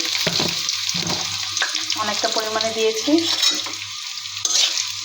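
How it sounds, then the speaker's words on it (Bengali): Chopped onions frying in hot oil in a wok for a layer chicken bhuna, with whole garam masala and bay leaves in the pan, give a steady close sizzle with stirring scrapes while someone speaks over it. "ভেজে নিব পেঁয়াজ ভাজা হয়ে গিয়েছে"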